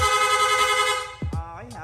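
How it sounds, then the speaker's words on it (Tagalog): A rapid horn on a Suzuki Gixxer 150 motorcycle blares a sustained buzzy tone that then breaks into quick stuttering honks with sliding pitch, loud and close. "Long press lang po natin yung horn switch."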